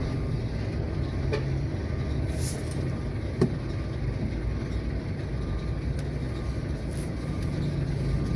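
Steady road traffic rumbles along behind a large Fuso truck on the Palembang–Jambi eastern highway, a continuous moderate engine drone with a faint brief thump partway through.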